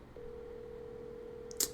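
A telephone ringback tone sounds while a call waits to be answered: one steady, clear tone holds for about a second and a half, followed by a short click.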